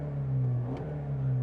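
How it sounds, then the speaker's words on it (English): A 2021 Toyota Corolla Apex with a 2-liter four-cylinder engine idles with a steady, buzzy drone, close and moderately loud, with a brief rise in pitch midway. "And you can hear, listening to this car start up, you know, it doesn't sound very different from the last Corolla that I tested."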